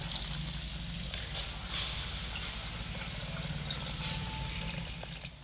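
Water pours into a pot of boiled lentils and vegetables, a steady close gush and trickle that carries on for several seconds with faint kitchen clatter beneath.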